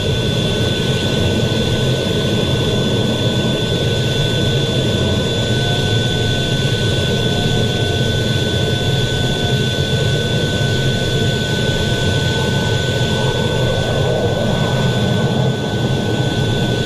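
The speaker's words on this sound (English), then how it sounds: "This is how landing on an aircraft carrier looks from the pilot's point of view." Jet aircraft landing on an aircraft carrier, heard from the cockpit as a steady loud engine roar with a constant high whine and sustained rumble throughout, no talking.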